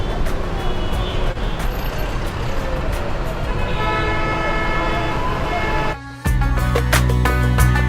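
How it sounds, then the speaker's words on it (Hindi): Heavy road traffic near a bridge on Murree Road in Rawalpindi, a dense continuous roar of engines with repeated horn toots and honks layered over it, louder tonal honking near the end. "बड़ा ट्रैफिक है भाई,"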